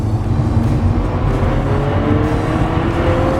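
A 2016 Porsche GT3 RS accelerates with a loud, continuous engine roar and road noise heard from inside the car, with no talk.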